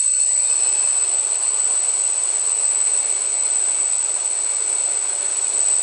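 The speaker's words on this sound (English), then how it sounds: "if I start the motors in GPS mode and go to manual mode" Motors of a Naza-controlled 650-size hexacopter spinning steadily, a continuous close whine with a high-pitched tone and broadband rush holding level throughout, no voices.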